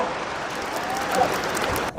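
Applause at a village gathering welcomes a speaker to the stage, a dense, steady clapping from a crowd lasting the whole moment before a voice briefly cuts in at the end.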